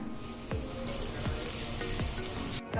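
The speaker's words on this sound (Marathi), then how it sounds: "आता या वांग्याला आपण गॅसवर छानपैकी भाजून घेऊ" A whole brinjal roasts directly over a gas flame, giving a soft steady hiss and faint crackle with a few louder pops, heard close and without talk.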